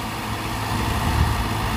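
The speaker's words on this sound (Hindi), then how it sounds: "लिख के तैयार है यह ट्रैक्टर तो चलता आ रहा है" A Massey Ferguson 241 tractor engine runs in a village setting, a loud steady low rumble filling the whole stretch with no pauses.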